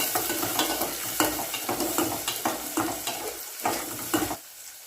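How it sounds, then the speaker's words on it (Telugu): Green chillies and onions sizzle in a pan while being stirred, with repeated scraping strokes over a steady frying hiss that drops away near the end; close and fairly loud, no talk. "ఇప్పుడు పచ్చిమిర్చి ఉల్లిపాయలు వేసుకోవాలి ఉల్లిపాయలు వేగేదాకా కలుపుకోవాలి"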